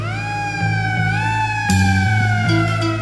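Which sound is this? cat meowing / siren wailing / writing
siren wailing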